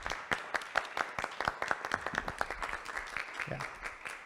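An audience applauds after a tech talk presentation, a burst of many hands clapping with a brisk, uneven rhythm that softens toward the end, fairly close and without talk over it.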